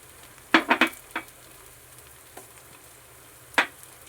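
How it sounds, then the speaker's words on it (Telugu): Onions added to hot oil for mutton biryani, with a few sharp sizzling bursts and stirring clatters close by, settling into a low, quiet fry between them. "ఇప్పుడు ఇందులోకి నేను ఆనియన్ యాడ్ చేసుకుంటున్నాను."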